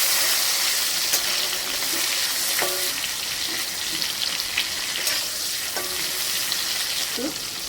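Dry chilli, bay leaf, cumin, hing and ghee sizzle in hot oil, a loud steady crackling hiss with occasional clinks of a stirring spoon, and no voices.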